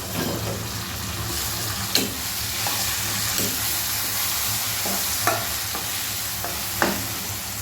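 Eggplant fries in a pan for eggplant bharta with capsicum: a loud, continuous sizzle with a few sharp utensil clinks and stirring scrapes spaced through it, close by and without speech.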